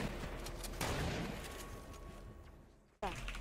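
Sniper gunfire in a video game comes as a few faint, sharp shots. One lands about a second in, another cracks suddenly near the end, and low background noise fills the gaps.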